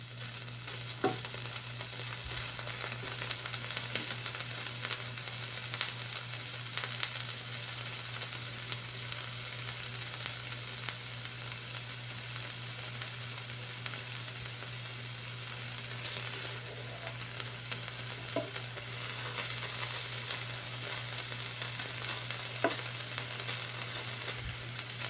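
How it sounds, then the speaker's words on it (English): Hickory smoked bacon sizzles and crackles steadily in a skillet for a long stretch, with occasional small pops over a constant frying hiss. "I hear it sizzling now."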